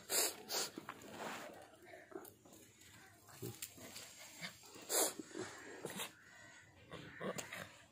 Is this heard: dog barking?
yes